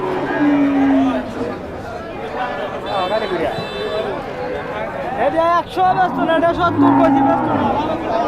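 Cattle moo at a busy cow market, two long low calls near the start and end over steady crowd chatter, with people talking close by throughout.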